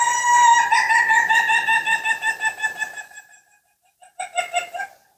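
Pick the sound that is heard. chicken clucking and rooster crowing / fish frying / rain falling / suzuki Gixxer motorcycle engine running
chicken clucking and rooster crowing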